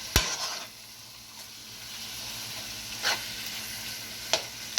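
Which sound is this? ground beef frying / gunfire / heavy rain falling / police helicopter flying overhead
ground beef frying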